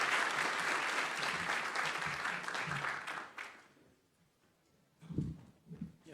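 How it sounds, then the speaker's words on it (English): An audience at a Texas A&M Transportation Institute event applauds the speakers, a full, steady round of clapping that fades out after about three seconds, leaving a quieter gap before a few low thumps and shuffles. "Would you give our speakers a round of applause"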